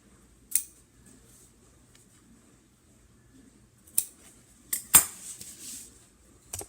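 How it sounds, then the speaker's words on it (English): Scissors snip V-shaped notches into fabric for a bag, a few sharp, close, isolated cuts separated by quiet pauses, one cluster of quick snips in the middle. "Then I'm going to make my V clips right to the stitch line"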